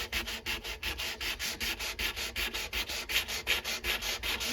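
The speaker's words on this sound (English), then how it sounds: "which direction I sand now, because it probably make marks" Steady back-and-forth sanding strokes on a knife blade, a rhythmic rasping scrape repeating about four times a second, close and fairly loud with no talking.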